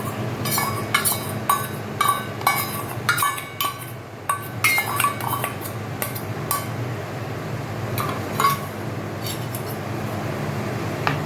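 Custard powder being stirred into milk in a pot for mango pudding, with repeated spoon clinks and scrapes against the metal over a low steady background hum, no talk.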